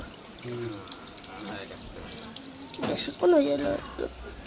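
Water pours and splashes steadily into a sink up close, poured over a kitten being bathed, while voices talk over it.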